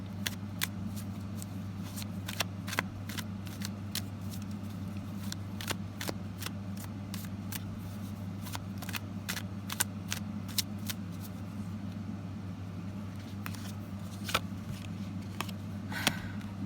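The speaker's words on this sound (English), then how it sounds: "I feel like shuffling again." Tarot cards being shuffled by hand: soft, repeated riffling clicks and taps, close and fairly quiet, over a steady low hum, with no talking.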